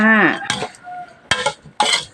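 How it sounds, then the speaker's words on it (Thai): Utensil stirring pork nam tok larb in a pan or bowl to mix it, giving three short clinking, scraping bursts with brief gaps and a faint background tone. "เราก็จะคนนะคะ คนให้เข้ากันค่ะ"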